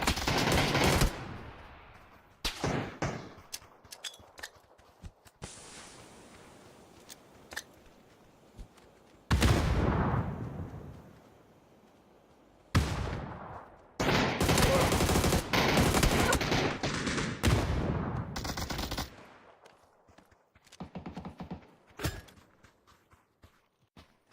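Burst-fire gunshots in a PUBG match, sharp separate volleys of rapid shots spread across the stretch, some loud and close, others quieter, with gaps of near silence between bursts.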